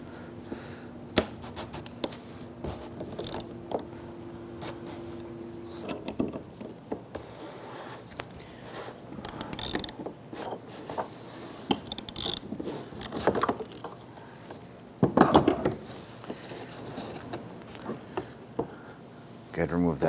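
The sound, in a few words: tool turning off a Jeep Grand Cherokee fuel pump collar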